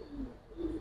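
A female Giribaz pigeon gives a single faint, low coo up close, two short tonal pulses within under a second, with no talking.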